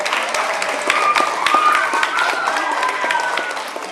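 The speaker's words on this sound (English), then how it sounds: "a round of applause" An audience at a school presentation applauds in a continuous, fairly loud wash of clapping, with voices and some tonal sound running underneath throughout.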